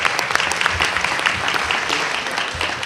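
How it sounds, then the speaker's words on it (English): An audience at a youth center donation event claps in steady, dense applause, loud and continuous throughout with no voices over it. "Let's give him a round of applause."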